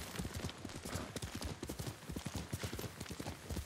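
A horse gallops in the video game Ghost of Tsushima, its hooves pounding in a rapid, steady rhythm that runs throughout, close and fairly quiet, with no talking.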